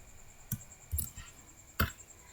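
Keys clicked on a keyboard while working in Microsoft Excel: three separate sharp taps spaced unevenly, close and fairly quiet over a faint steady whine, with no talking.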